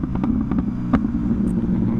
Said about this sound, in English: The pops are just next level on this thing.